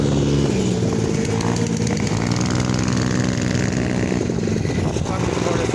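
Small engines of a motorcycle, a moped and a mini bike drone and rev together in a race, a continuous loud buzzing roar that stays steady throughout, with voices talking over it.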